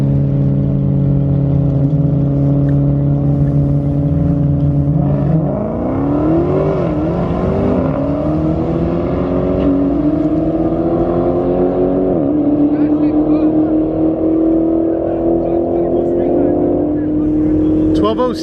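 A Dodge Hellcat at a drag strip, its engine droning loudly and continuously, then climbing through several rising revs and gear shifts, close and powerful throughout with no talk over it.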